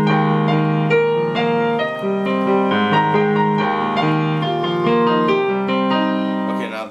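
Piano playing the chorus of a song, steady sustained chords with a moving melody on top, clear and close with no talking.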